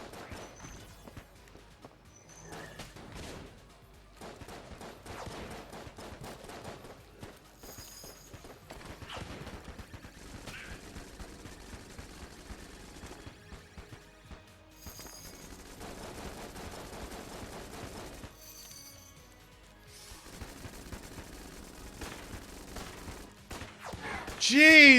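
In Enter the Gungeon, the Shelligun blasts in rapid repeated volleys with dense, crackling bursts separated by short gaps, ending in a louder final impact, all at moderate volume with no talking.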